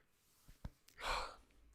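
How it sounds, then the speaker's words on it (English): A man yawns aloud while pausing his talk in a hot room, a long breathy exhalation rising and falling, close and moderately loud after a couple of short breaths. "I always yawn when I'm talking and the room is really hot."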